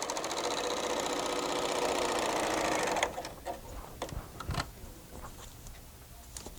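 A Bernina L890 sewing machine stitches a seam with a steady, fast mechanical whir for about three seconds, then stops, leaving scattered clicks and handling knocks nearby.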